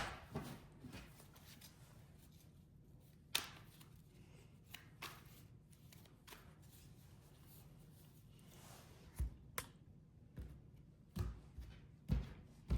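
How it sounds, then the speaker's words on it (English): Tarot cards being shuffled by hand, a faint, soft rustle broken by scattered light taps and flicks, with no talking. "with the tarot, I am going to shuffle those"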